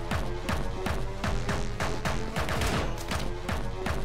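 Rapid gunfire in the game Anger Foot, a dense, continuous string of sharp, loud shots and impacts with an even rhythm and no pauses.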